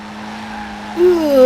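A race car in Forza Horizon 4 holds a steady, droning engine note, then a brief rising squeal of tires joins in as the car is pushed hard.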